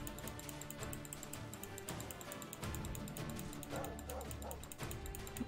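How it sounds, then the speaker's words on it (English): Dog barking in the Adventure of Dirwin video game, repeated yips and bow-wows mixed with game music and effects, with someone talking over it. "Dog's constantly barking"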